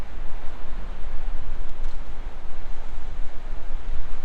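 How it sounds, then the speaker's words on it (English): Cold wind off Lake Huron roars steadily and loudly across the microphone, a constant low rumble with surf-like gusts and no voices. "That wind off the lake."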